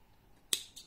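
Scissors snip through crochet yarn, a single sharp close cut followed by a fainter second click, in a quiet room.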